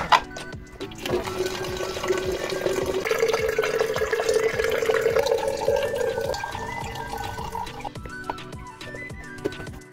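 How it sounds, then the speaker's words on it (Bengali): Water runs steadily from a household water filter into a jug, with a filling tone that rises in pitch as the jug fills, heard close and alone with a few small clinks at the end. "আর এখন এই জগ নিয়ে নিলাম, ফিল্টার থেকে জল ভরতে হবে।"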